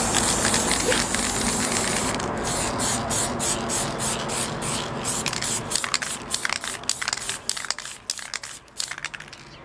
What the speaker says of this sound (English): So I'm just going to spray it with some Damar varnish here.